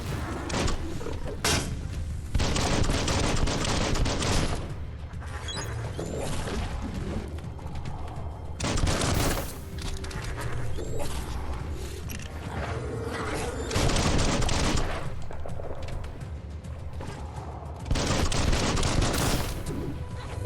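Weapon fire in the Biomutant action RPG, with loud bursts of shots recurring every few seconds over a busy, mechanical game soundscape, and no talking.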